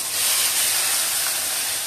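Onions going into hot oil after asafoetida for a Bengali country-chicken curry, a loud, close, steady hissing sizzle with no voices.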